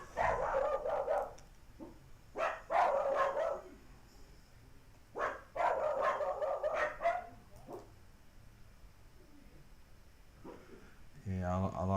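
Dogs barking during a pool or snooker match, clusters of rapid barks arriving in two or three bursts with pauses, and a person talking near the end.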